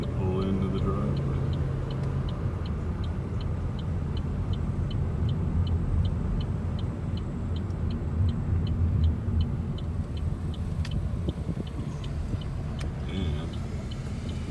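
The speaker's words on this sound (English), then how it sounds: "We're getting ready to pull into the driveway." Car engine rumble from inside a vehicle pulling into a driveway in Abbot, Mississippi, a steady low drone with a faint regular ticking like a turn signal over it, continuous for about fifteen seconds.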